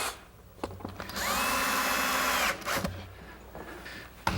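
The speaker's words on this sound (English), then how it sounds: "Now that I know it's not going to move, I can pre-drill for some screws." A power drill pre-drills screw holes in cabinet wood, one sustained whirring run of about a second and a half with a rising pitch as it spins up, close and loud, bracketed by a few small knocks.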